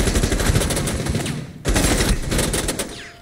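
Rapid automatic gunfire in Rainbow Six Siege, a loud close burst of rattling shots running almost continuously, with a brief gap before firing resumes.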